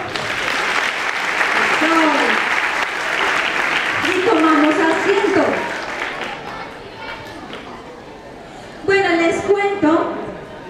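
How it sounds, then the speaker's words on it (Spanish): A group of young people gives a loud round of applause at an outdoor environmental motivation session, the clapping mixed with shouts and chatter and swelling again near the end. "Ahora se dan un fuerte aplauso."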